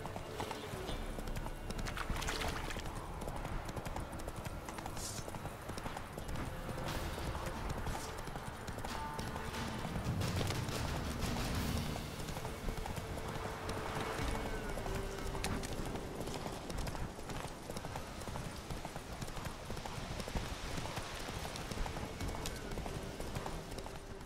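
Horse hooves clip-clopping at a gallop in The Witcher 3: Wild Hunt, a steady rapid rhythm running throughout with game ambience and music underneath, while a voice occasionally talks over it.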